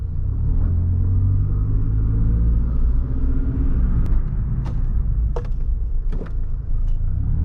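A 2012 Scion tC rolls along with steady road and engine rumble, and a few sharp squeaks from worn brake pads cut through near the end.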